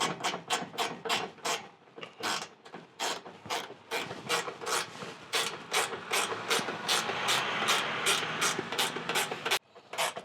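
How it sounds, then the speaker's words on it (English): Bolts on a rear parcel drop-down shelf in a 100 Series Toyota LandCruiser being tightened by hand with a 10mm spanner: a long run of close, steady scraping and clicking strokes, sparse at first and then rapid and nearly continuous. "let me grab our 10mm spanner, righty tighty, and we just go through."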